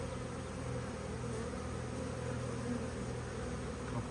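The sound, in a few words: large honeybee swarm buzzing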